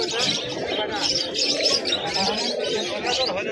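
Pigeons coo steadily in a close group in a cage at the Beldanga pigeon market in Murshidabad, soft overlapping burbling calls with a few chirps, continuous and fairly loud throughout.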